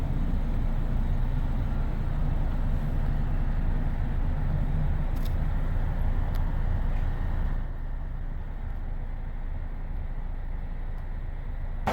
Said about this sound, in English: there's charter buses everywhere